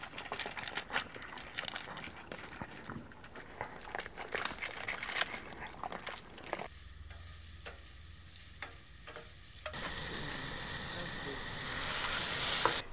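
Hot dogs sizzling and frying in a pan while mac and cheese cooks at an outdoor camp setup, a steady crackling sizzle with stirring clatter, loud and continuous, growing louder and denser toward the end.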